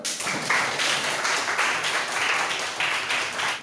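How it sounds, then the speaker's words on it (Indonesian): Schoolchildren in a classroom clap their hands together in a steady, fairly loud rhythmic burst lasting a few seconds, with no talk over it. "Tepuk tangan dulu."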